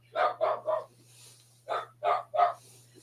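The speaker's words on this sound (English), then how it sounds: "There goes my dog." A dog barks nearby in two groups of three sharp, loud barks separated by a short pause, over a faint steady low hum in an otherwise quiet indoor space.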